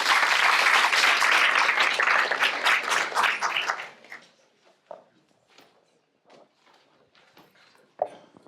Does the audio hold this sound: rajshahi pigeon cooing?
no